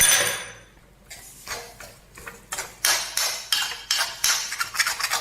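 Clams roasting in coconut oil in a pan being stirred, with a metal spoon scraping and clinking against the pan in repeated short strokes that grow louder and quicker after a quiet start, close by and with no voices.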